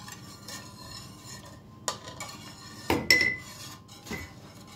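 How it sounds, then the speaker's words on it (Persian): Crushed garlic cloves being stirred into a pot of Afghan quroti sauce, a utensil scraping and clinking against the metal pot in a few distinct knocks over a soft background, with no voices. "این سیر له شده رو هم بهش اضافه میکنیم. خوب هم میزنیم."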